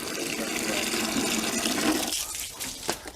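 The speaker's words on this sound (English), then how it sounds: "We're just going to put some water in the bucket." Water gushes steadily from a garden hose into a bucket during pool maintenance, a close, continuous rushing pour that thins out and splashes unevenly near the end.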